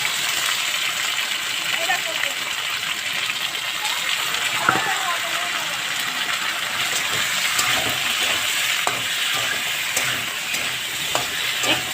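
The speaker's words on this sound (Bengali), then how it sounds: "ভাজা ভাজা করে দেবো তার কারণ যাতে আদার কাঁচা গন্ধটা না থাকে" Ginger and dried chilli paste fry in a pan with a constant close sizzle, broken by irregular stirring clicks and scrapes, while a voice sounds faintly underneath.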